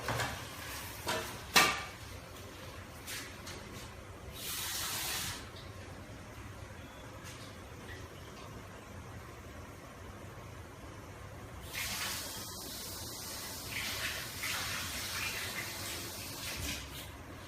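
Locust beans being washed under running water, with intermittent splashing and rinsing bursts close by, quiet stretches between pours.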